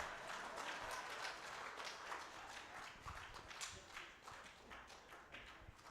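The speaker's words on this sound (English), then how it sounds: "Let's continue clapping as she" An audience at an anti-corruption convention applauds as a speaker takes the podium, a dense, steady wash of many hands clapping heard from within the crowd and holding for several seconds.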